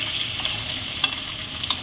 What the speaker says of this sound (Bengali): আরও লাল লাল করে একটু ভেজে নেবে দেখুন